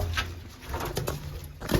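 Pigeons in a loft coo softly nearby in low, repeated throaty calls, with light rustling and a brief clatter near the end.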